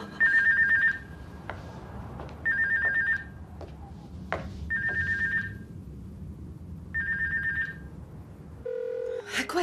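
Telephone ringing unanswered, four evenly spaced trilling rings with a few faint knocks and background noise between them, ending in a short tone.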